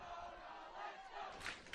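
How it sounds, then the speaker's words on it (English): A high school homecoming football crowd cheers for Ramona against Arroyo Valley, a brief steady roar of voices from the stands at moderate distance. "The crowd is cheering for Ramona."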